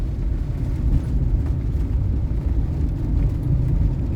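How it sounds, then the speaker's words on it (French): Road traffic passes on a rural country road with a steady low rumbling engine drone throughout, moderately loud and continuous, with no distinct pass-by peaks. "Il y a un petit peu de circulation."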